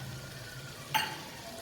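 Cauliflower, beans and carrot sauté in a pan for vegetable biryani, giving a faint, steady sizzle with a single brief clink of a utensil partway through.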